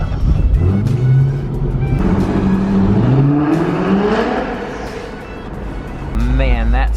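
A 2021 Ford Bronco four-door's engine rumbles and revs up, its pitch rising and falling across the clip, loud and close, with a person speaking over it.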